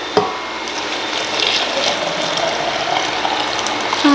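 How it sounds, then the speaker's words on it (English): Water poured into a container while making dirt cup popsicles, a steady close, loud splashing rush that runs unbroken for the whole stretch after a brief knock at the start. "And then my water here, let's pour that in"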